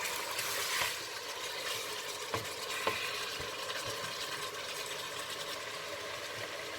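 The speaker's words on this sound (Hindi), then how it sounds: "चिकन को तकरीबन 2-4 मिनट पहले इसको भूनें।" Chicken frying in a pan, a steady close sizzle with intermittent scraping and clattering as it is stirred, moderately quiet and without speech.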